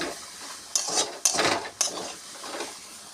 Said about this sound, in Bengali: শাকটা ভাজা হয়ে এসেছে